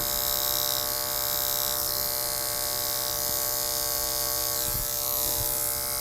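An electric hair clipper hums steadily and close up while cutting a zero fade haircut. The buzzing stays even for the whole stretch, with faint scraping touches as the blade moves slowly over the head.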